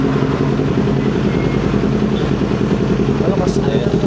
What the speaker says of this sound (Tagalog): Testing natin yung AR. Austin Racing slip-on exhaust.